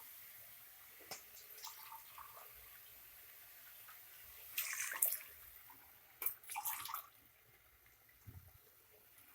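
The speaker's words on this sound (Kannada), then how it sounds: "ಈಗ 2 ಲೋಟ ನೀರು ಹಾಕ್ಕೊತಾ ಇದ್ದೀನಿ ನಾನು" Two cups of water poured into a pot of raw rice for vegetable rice bath, heard as two short splashing pours a couple of seconds apart over quiet kitchen background.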